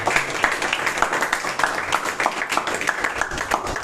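A church congregation applauds and cheers for Jesus, dense steady clapping with scattered rhythmic peaks filling the room continuously, fairly loud and close.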